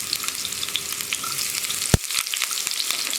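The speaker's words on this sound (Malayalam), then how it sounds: "നമുക്കിതിലേക്ക് ഉള്ളി റൗണ്ടിൽ കട്ട് ചെയ്തത് ചേർക്കാം." Sliced onion rounds are dropped into hot oil where mustard seeds have already popped, and they fry with a steady close sizzle. One sharp clatter of a utensil rings out partway through, and no one talks.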